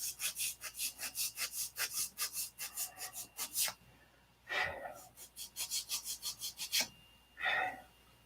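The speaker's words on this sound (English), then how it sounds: "So we're going to sand a taper in it." Hand-sanding a taper into a wooden piece, with rapid rhythmic back-and-forth abrasive strokes in a close, steady run, a pause with a breath, then further bursts of rubbing strokes.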